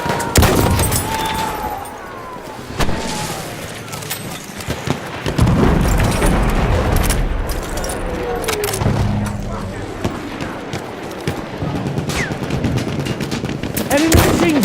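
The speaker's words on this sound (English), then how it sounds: "Machine gun, one of theirs." Enemy machine gun fire in Battlefield 1 rattles in loud bursts among other gunshots, booms and vehicle noise, with soldiers' voices shouting over the chaotic battlefield.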